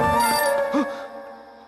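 In a Telugu suspense horror film, a phone rings with a brief electronic melody that holds for under a second, then fades and trails off.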